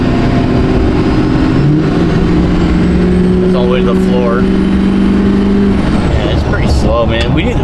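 A restored 20-year-old Duramax diesel truck accelerating at full throttle, its loud engine drone steady and close inside the cab, with people talking over it.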